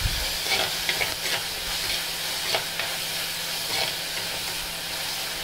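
Tomato sautés in a clay pot for a Kerala-style prawn curry, giving a constant loud sizzle and hiss. A few stirring scrapes cut in near the start and middle, with no speech.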